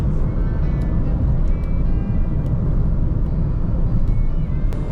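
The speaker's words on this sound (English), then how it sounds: "On the highway, NVH levels are pretty decent. There is a bit of tire noise." Steady highway road and tire roar inside the cabin of a 2023 Suzuki Ertiga Hybrid cruising at speed, a constant loud low rumble with no breaks.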